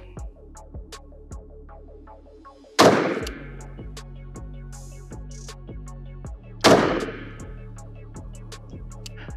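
Two loud, sharp reports from a Smith & Wesson 629 .44 Magnum revolver, several seconds apart, each with a long booming echo that rolls away across an outdoor range.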